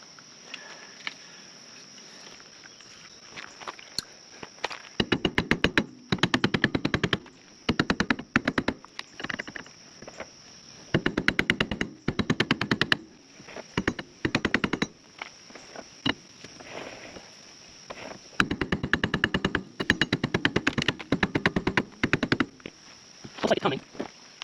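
A rubber mallet struck repeatedly against a wheel bearing on a Polaris Sportsman 570 ATV, in fast rattling bursts of close, loud blows separated by pauses, with a steady high whine in the background.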